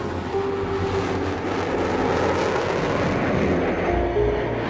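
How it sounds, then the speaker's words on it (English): An early four-jet airliner on a record-speed low pass makes a sustained, heavy jet roar that stays loud and broad throughout, with a steady engine drone and no voices. "Watch out for the delayed action sound. The plane's way ahead before your eardrums catch up with it."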